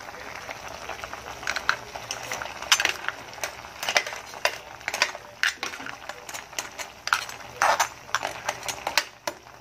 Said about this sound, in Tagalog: So, haluin na natin para mag-mix